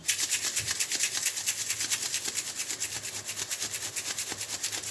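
Rapid rhythmic swishing and rattling of a coffee mixture with water being shaken hard in a closed container for a cappuccino, steady and close with no talking.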